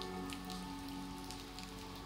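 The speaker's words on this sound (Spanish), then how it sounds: "Ahora se vuelve a poner más fuerte la lluvia." Rain falls in the horror game Horrorfield, a quiet, even hiss of drops on surfaces with a faint steady hum beneath and no talk.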